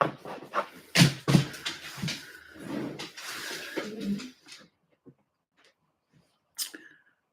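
A pet dog whining indoors, high thin whimpers and snuffling noises close by for several seconds, then a few faint sparse whines after a pause.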